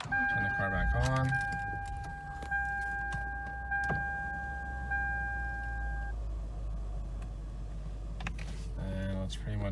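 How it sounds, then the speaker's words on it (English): A Lexus LS430 is switched back on: keys jangle, warning chimes ring steadily, then a low engine hum settles in beneath scattered clicks, with a voice speaking briefly at the start and end. "And now we're gonna turn the car back on."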